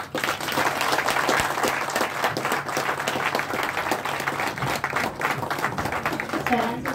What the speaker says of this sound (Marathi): खरंच जोरदार टाळ्या झाल्या पाहिजे